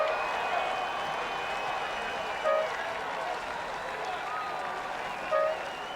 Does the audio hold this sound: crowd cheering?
yes